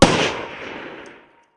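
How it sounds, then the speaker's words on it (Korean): A single loud gunshot in a ghost story narration, an abrupt sharp blast from a soldier's gun that decays into a fading echo over about a second, with no voices. "귀청을 찢는 총성과 함께 주위는 정적에 휩싸인다"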